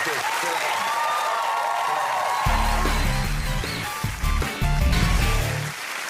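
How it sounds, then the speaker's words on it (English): A studio audience on a British comedy quiz show applauds guest Danny Dyer, a full, continuous clapping roar, soon joined by bright theme music that plays over the applause, with a voice briefly in the mix. "Give me a round of applause, Danny Dyer."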